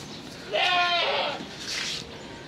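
Goats bleat nearby, two distinct wavering calls, the first louder and longer, the second shorter and softer.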